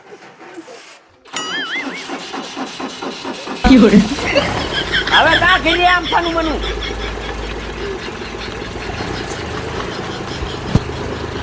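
A tractor engine fires up abruptly with a loud burst, then settles into a steady, throbbing idle while a person talks over it.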